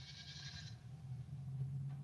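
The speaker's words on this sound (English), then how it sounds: "Is that sheep in the background, or is that a sound effect? It's sheep." Sheep bleat steadily in the background of a rural backyard, a low, wavering, continuous bleating at moderate distance with no talk over it.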